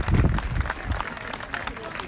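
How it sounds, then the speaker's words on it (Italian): Warm applause from a crowd at an Italian cinema festival interview event, dense clapping that swells at the start and carries on steadily, with voices mixed into the noise. "Facciamo un bel applauso caloroso"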